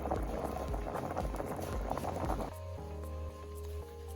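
Hot water from boiled potatoes drains off in a bubbling, sputtering pour for a couple of seconds, then settles into a quieter steady hiss with faint drips.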